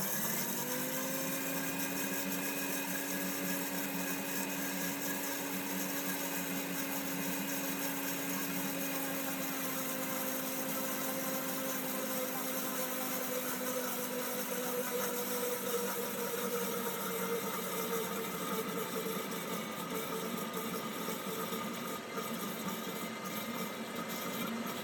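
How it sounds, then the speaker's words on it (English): A blender runs steadily for Arabic toum garlic sauce as oil is added in a thin line, a continuous whirring motor hum with a slowly shifting pitch, close and loud throughout with no talk. "So we'll start the blender and then starting to add the oil."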